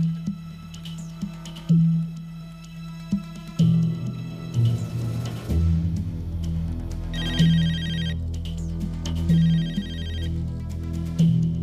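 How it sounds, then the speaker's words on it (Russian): A telephone rings for an incoming call in a Russian action film, a repeating electronic ringtone in bursts over a low, steady musical hum. "Один звонок уже пропущен, надо бы ответить."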